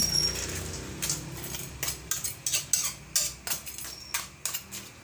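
A ladle scrapes and clinks against a pot while stirring a coconut squash, string bean and crab stew with ginger, a series of irregular metallic taps and scrapes, close and fairly clear, with no talking.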